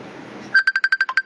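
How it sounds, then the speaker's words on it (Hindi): A mobile phone rings with an incoming Facebook call, a quick run of about eight bright, evenly spaced electronic tones following a moment of quiet room noise. "बार बार फोन आ रहा है कि मैं उठाऊं"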